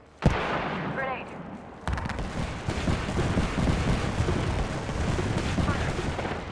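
Gunfire in the video game Apex Legends: a sharp early shot, then dense rapid bursts of automatic fire that keep rolling loudly through the rest of the moment amid game effects, with a voice talking under it.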